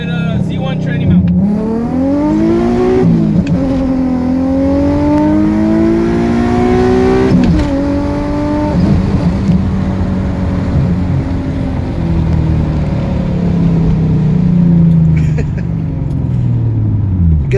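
A loud Infiniti G35 with a Z1 transmission mount revs and accelerates in a drive-by, its engine note rising in pitch through repeated pulls, close and rumbling throughout.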